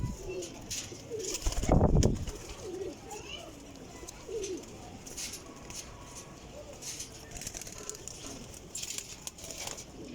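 Pigeons held for sale at a rooftop loft give soft, faint coos amid a noisy background, with a brief loud thump or rustle near the start.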